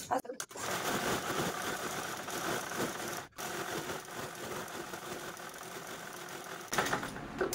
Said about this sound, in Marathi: मध्यभागी मी टाचणी लावून घेतलेली, जशी मार्किंग केली त्यावरतीच आपण स्टिच करून घेऊ